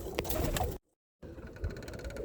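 Roller pigeons coo and rustle close by in a loft, soft throaty calls broken by a brief moment of silence before resuming.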